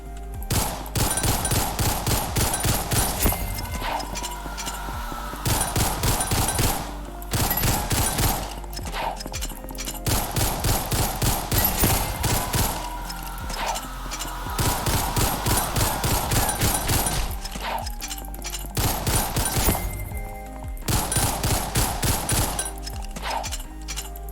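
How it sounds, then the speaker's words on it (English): Dual pistols fire in Ragdoll Universe in dense, rapid bursts of gunshots separated by brief pauses, loud and continuous across the whole stretch with no talking. "we have the dual pistols"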